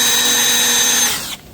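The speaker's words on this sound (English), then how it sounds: "Nice little jig, and then I will drill right in the corner" Power drill boring into the corner of a wooden jig during a white oak kitchen build, a steady high motor whine with strong upper harmonics running continuously, then winding down and cutting off near the end.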